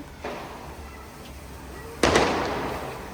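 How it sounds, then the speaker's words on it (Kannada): Firecrackers are set off during Deepavali celebrations. A smaller pop comes first, followed by a loud, close burst that crackles and fades away. "ಸೊ ಬನ್ನಿ ಪಟಾಕಿ ಹಚ್ಚೋಣ"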